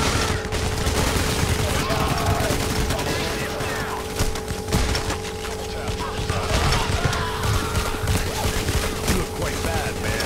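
Gunfire from the video game Payday: The Heist rattles in dense, continuous bursts over a busy battle mix, with excited voices talking over the shooting throughout.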